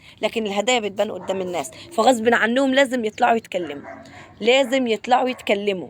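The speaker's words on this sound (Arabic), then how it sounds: "طبعا اسفه على الكلب بتاع جارنا" A neighbour's dog barks and yips in the background from a rooftop setting, the barks intermittent and partly masked by someone talking steadily over them.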